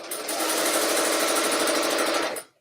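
A serger sewing machine runs fast and loud, stitching and binding kaftan fabric with a continuous high whirring drone that cuts off sharply near the end.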